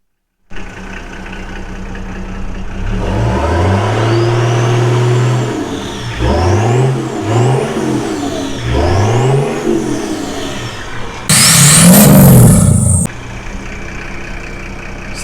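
A truck starts up, then pulls away in several rising and falling acceleration sweeps through the gears. A loud, close burst of roar follows before it settles. Nobody speaks.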